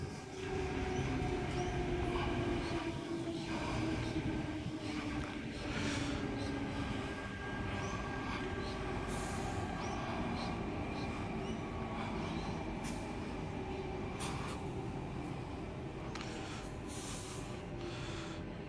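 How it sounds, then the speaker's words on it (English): Sydney suburban train made up of two four-car sets departing platform 4 at St Marys station: a steady rolling rumble of wheels and carriages with faint squeals and clicks, heard from the platform. "T97 and T90 now departing platform number 4,"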